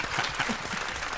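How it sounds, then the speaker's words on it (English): A studio audience on a talk show applauds and cheers as the cast of Snowfall is introduced, a dense burst of clapping heard alone for a brief moment. "Give him a big round of applause, man."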